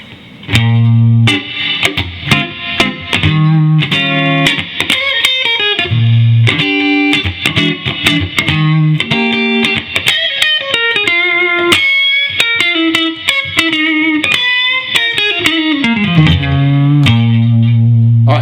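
Clean electric guitar from a 2007 Fender Stratocaster played through a Fender Blues Deluxe reissue amp with tone controls fully up, loud single-note runs and ringing chords picked in quick phrases, alone with no talking.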